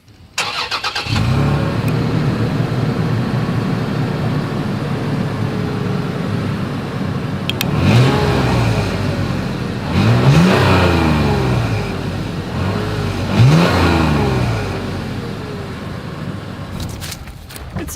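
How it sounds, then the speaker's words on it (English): A 2021 Toyota 4Runner with a single exhaust idles with a deep rumble, then revs sharply three times, each rise and fall clear and close, settling back to idle between. "As always, here is that exhaust clip."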